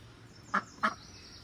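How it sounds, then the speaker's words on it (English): Two short, nasal quacks from a duck visiting a campground in Capitol Reef National Park, close and distinct, spaced about a third of a second apart over quiet outdoor background. "We even had the campground duck come visit us."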